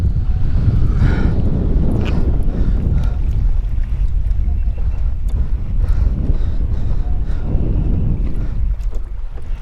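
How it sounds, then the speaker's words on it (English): Strong wind buffets the microphone on a river during a day of striped bass fishing at Willow Beach, a loud, steady low rumble with gusty swells throughout and no talking. "It's very windy."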